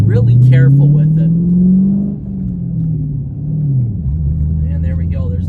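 Dodge Challenger SRT8 with a manual clutch shifting from first straight to fourth gear: a loud, close engine drone climbs in pitch, eases off, then settles lower after the shift.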